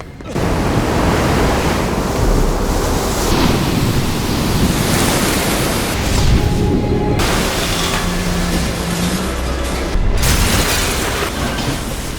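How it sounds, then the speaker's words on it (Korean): A huge tidal wave surges in from the sea in a film scene, a loud, continuous roaring wash of surf and rumbling booms that swells and churns without pause. "그때 바다 멀리서 거대한 해일이 밀려오는데"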